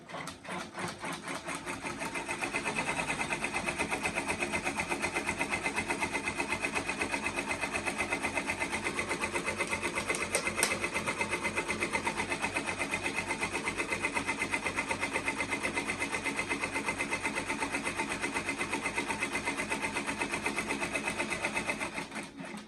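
A Brother embroidery machine, a 1055X or PR670e, stitches out a tension test bar with a steady, rapid mechanical chatter that starts softly and then holds loud and even for about twenty seconds, alone without talk.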